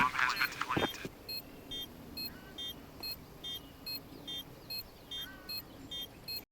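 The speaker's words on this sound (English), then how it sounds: "make the C4 beep at the same increasing cadence as it does in-game" A homemade Counter-Strike C4 bomb replica with a piezo buzzer gives short, high electronic beeps at a steady, even pace, about a dozen in a row. The beeps are faint and clean and follow a brief burst of noise.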